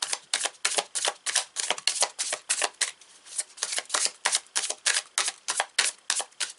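Tarot cards are riffled and shuffled in rapid, crisp bursts, a steady run of close, dry flutters with a brief pause midway, no voices.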